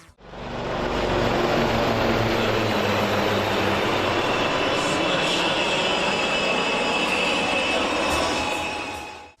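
Indian Air Force helicopters at Air Force Station Jamnagar, Gujarat, give a loud, steady roar of engine and rotor noise that holds unbroken for about nine seconds, with no voices over it.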